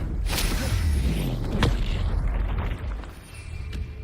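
A booming blast from the Confringo fire spell in the Hogwarts Legacy video game, a deep rumbling explosion with sharp pops, loud and close, fading out over a few seconds.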